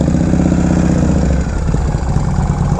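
A restored 1979 Harley-Davidson FLH Shovelhead with a rebuilt engine runs close by, a loud, steady, throbbing rumble with no voices over it.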